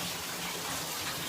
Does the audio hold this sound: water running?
yes